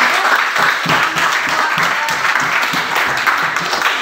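A classroom of students at an Indonesian school bursts into dense, loud, continuous applause from many hands, nearby and sustained throughout.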